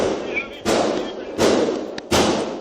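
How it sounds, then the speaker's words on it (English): Gunfire from a high-powered rifle inside an elementary school, caught on police body camera: three sharp, loud blasts spaced under a second apart over a muffled, noisy background. "Horrific sounds of gunfire ring through Nashville's Covenant Elementary School."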